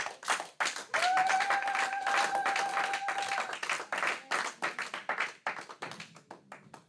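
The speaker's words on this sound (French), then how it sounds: "Acclamons le Seigneur." A congregation applauding the Lord during a French church service: steady, dense clapping from many hands fills the room, thinning toward the end into scattered individual claps, with a sustained tone ringing over the middle.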